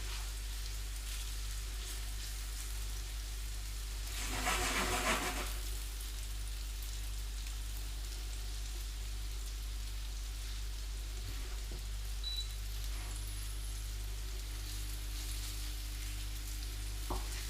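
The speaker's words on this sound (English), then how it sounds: "we're not wanting to cook these fully at this stage, we're just wanting to get them a nice brown colour" Meatballs sizzle and brown in a frying pan with a steady, soft crackle throughout, swelling into a louder burst of spitting for a moment early on, with no talking.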